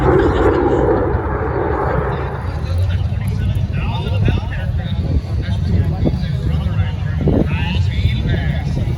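A fighter jet roars past at an airshow, a loud broad rumble that swells early then trails off into a distant whoosh, with people talking over it.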